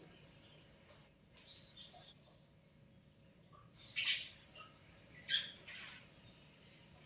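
House sparrows give faint, brief chirps in short bursts in a quiet morning yard.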